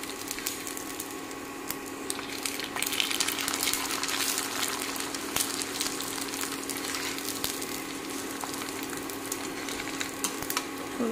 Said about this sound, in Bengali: সুন্দর করে ভেজে নিলাম।